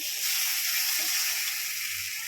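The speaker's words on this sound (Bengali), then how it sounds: "আমার মশলাটা কষানো হয়ে গেছে" Spice paste (masala) fried in a pan for chicken kosha, a steady bright hiss of sizzling oil, even and close, with no voices.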